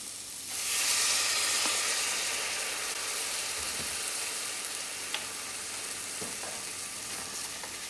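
Soy sauce and fish sauce hit a hot pot of kimchi and dumplings, flaring into a loud, bright sizzle that settles into a sustained hiss with faint stirring clicks, and no talking.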